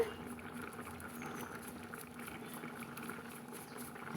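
White pumpkin kootu with onions simmering in a pot on the stove, giving a steady, soft bubbling and gentle liquid burble throughout, fairly quiet and close, with no voices.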